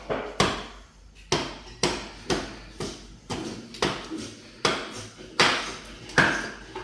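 An axe carving a wooden spoon from green wood, a steady series of about a dozen sharp chopping thuds, each with a short ringing decay, close and evenly spaced.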